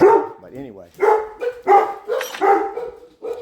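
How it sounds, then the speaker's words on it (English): Dogs bark repeatedly and loudly nearby, sharp woofs mixed with a brief whine, while someone speaks over them. "Sorry for the dogs barking."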